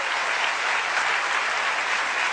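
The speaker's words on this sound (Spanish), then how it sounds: "denle un aplauso al Rey bendito" Brief burst of steady audience applause at a religious talk, a dense continuous patter of many clapping hands with no voices over it.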